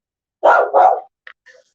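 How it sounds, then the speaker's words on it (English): Two quick, loud barks from a dog nearby, followed by a couple of softer little yips. "Now my dog's barking."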